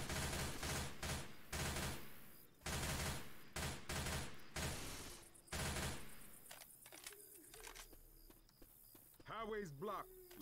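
Bursts of rapid machine gun fire in the zombie shooter Left 4 Dead 2, loud chattering volleys broken by short gaps, giving way to mechanical clicks and scattered game effects near the end.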